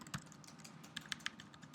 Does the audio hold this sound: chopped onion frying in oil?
no